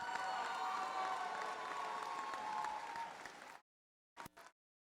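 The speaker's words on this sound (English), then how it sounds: "Let's hear it with a big round of applause for all the teams competing today." A crowd at a FIRST Tech Challenge robotics tournament claps and cheers loudly in a large venue, a sustained roar of applause with shouts that cuts off abruptly, followed by a brief burst of noise.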